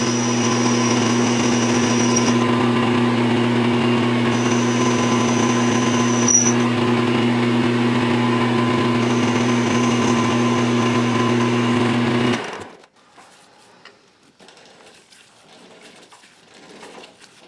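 A machine boring holes in custom bass guitar knobs runs with a steady high-pitched whine that stays constant for about twelve seconds, then cuts off abruptly, leaving faint quiet handling noises.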